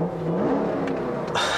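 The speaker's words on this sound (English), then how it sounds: "push this red button here to start the engine up" 2018 Jeep Grand Cherokee Trackhawk with a Hellcat engine starting up, a whirring crank that rises in pitch and then catches into a louder, fuller engine roar, heard close.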